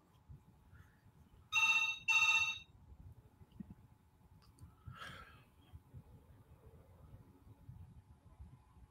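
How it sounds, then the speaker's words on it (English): Phone ringing in a quiet room, two loud electronic ring bursts in quick succession followed by a fainter third chirp, with soft breathing and low room noise between. "Do you have a phone ringing?"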